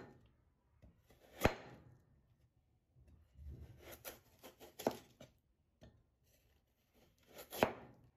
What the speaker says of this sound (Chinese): 一个胡萝卜，我们将其切成薄片，尽量薄一些